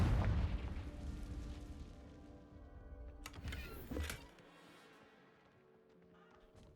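Confringo fire spell explosion in the video game Hogwarts Legacy: a heavy boom at the very start that rolls off over several seconds, followed by a smaller crackling burst and a quieter fading tail.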